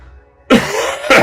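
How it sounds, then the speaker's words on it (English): A person coughs twice, close and loud: one rough, drawn-out cough, then a second sharp one a moment later. "I keep coughing."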